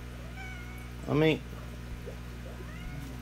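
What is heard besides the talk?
cat meowing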